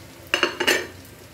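A utensil scrapes and clinks in a pan as pork adobo cooked with milk and butter is moved into a container, giving a few quick, close metallic scrapes in just over a second.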